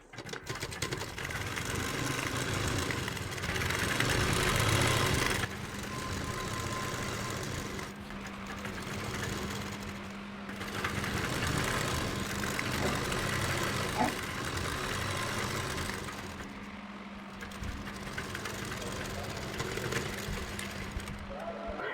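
A sewing machine stitches a Patiala-style dhoti salwar, running in several steady bursts of motor whir with short pauses between them, up close and fairly loud.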